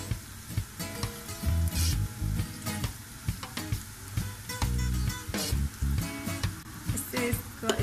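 Onions sizzle and fry in a karahi with salt and cumin, a steady close hiss with occasional stirring scrapes and low clatter, and no one talking.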